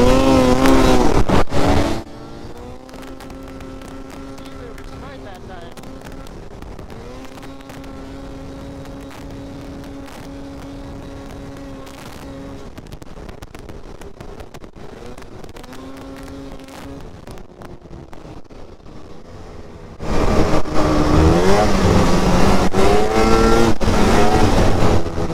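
A snowmobile engine runs loud and close, holding a steady drone with rising revs that swell and fall, then roars up sharply near the end; no talking.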